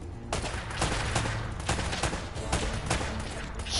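Rapid gunfire from Uncharted: Drake's Fortune, a steady run of loud sharp shots and bursts at close range, repeating every fraction of a second throughout with dense game noise between.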